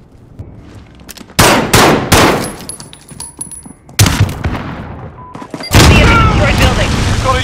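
C4 charges blast in Call of Duty Modern Warfare 2019, several sharp, loud booms in sequence mixed with gunfire bursts and clanging debris, with shouted in-game callouts around them.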